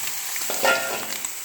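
Mutton goes into a pan of already fried onions and hits the hot oil with a steady, close sizzle that swells briefly in the middle of the short moment.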